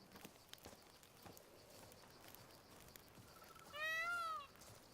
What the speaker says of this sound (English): Wondering what that sound is? It's a peacock.